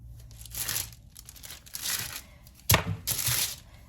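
Wax paper crinkles in several bursts as butter candy dough is handled and rolled on it, close and crisp, with short pauses between rustles.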